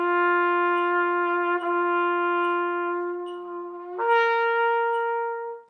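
Trumpet playing a Schlossberg exercise with audible bumps between notes, two long sustained tones joined by a small break and a jolt at the change, close and clear with no talk.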